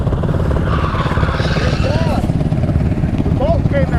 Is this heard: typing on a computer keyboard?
no